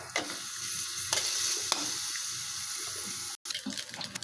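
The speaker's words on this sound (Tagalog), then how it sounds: "medyo isangkutsa lang natin siya tapos huwag lang natin tatagayin ng sobra" Pork liver sautéing in a pan for igado, a steady close sizzle and crackle of frying that runs almost unbroken, with a few brief clatters and one short drop-out near the end.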